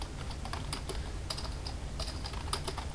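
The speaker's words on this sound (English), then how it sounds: "Now I'm going to type in my message." Quick, continuous typing on a computer keyboard while entering a social media message, close-up with crisp, irregular key taps over a faint steady hiss.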